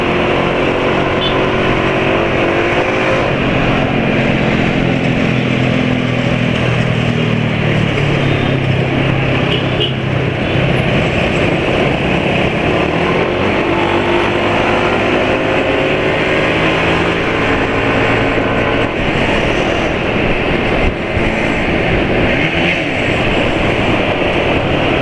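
Motorcycle engine running steadily at speed with continuous road and wind noise, rising and falling pitch as the bike accelerates past another motorcycle on the road, loud and close throughout.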